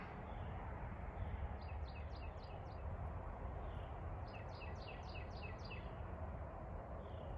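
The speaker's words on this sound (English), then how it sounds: "Hear the birds." Small birds chirp in two quick bursts of repeated tweets, faint against a constant broadband rumble of outdoor background noise.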